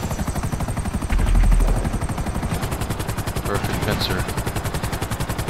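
Rapid automatic gunfire in GTA 5 Online rattles steadily and loudly throughout, a dense machine-gun stream with a helicopter-like thrum underneath, while a voice speaks briefly over it.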